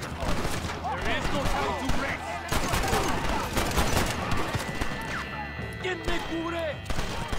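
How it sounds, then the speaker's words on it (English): An automatic shotgun in Red Dead Redemption fires a dense, continuous barrage of gunshots and impacts, loud and close, with someone talking over the gunfire. "Alright, automatic shotgun."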